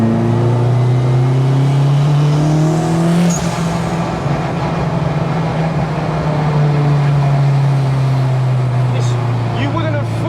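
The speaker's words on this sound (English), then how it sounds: "it's lighting up second gear like it's nothing as soon as it hits boost" A Honda Civic Type R turbo on low boost accelerating hard in second gear, its loud engine drone climbing steadily in pitch, easing briefly, then pulling again from inside the car.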